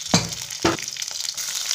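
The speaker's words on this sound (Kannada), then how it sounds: "ನಂತರ ಇದರಲ್ಲಿ ಹಸಿಮೆಣಸಿನ್ಕಾಯಿ ಹಾಕಿ ಫ್ರೈ ಮಾಡ್ಕೋಬೇಕು." Green chillies dropped into hot oil sizzle near and loud, with two sharp bursts of frying crackle followed by a softer continuous hiss.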